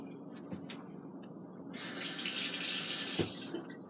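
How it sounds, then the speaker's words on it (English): A kitchen tap runs with a steady splash, swelling louder partway through as a utensil tip is rinsed under the stream, with small clinks in between. "I just rinsed the tip off."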